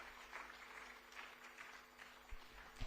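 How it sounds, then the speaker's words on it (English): Distant applause from an audience at the closing of a Uganda water and environment week event rustles faintly and steadily after a speech, with a low hum underneath. "Let's give her a bigger round of applause."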